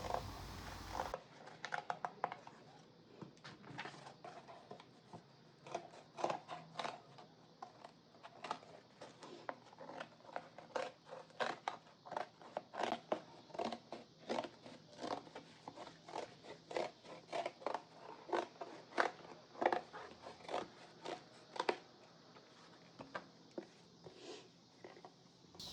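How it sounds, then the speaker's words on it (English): Scissors cut around the outer circle of a paper or cardboard template for packing a painting into a mailing tube, giving a steady run of short, close snips and crisp paper rustles in quick irregular rhythm. "I'm now going to cut out around the outer circle"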